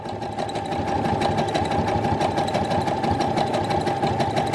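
A sewing machine running during bra sewing gives a steady, rapid mechanical chatter with a low knocking undertone, continuous and fairly close for a few seconds, sounding rough and unhealthy, with no voices.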